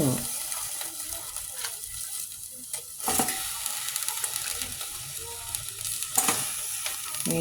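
Shrimp and lemongrass cooking in a pot without water, giving a soft steady sizzle with occasional louder stirring clatters, fairly quiet and close.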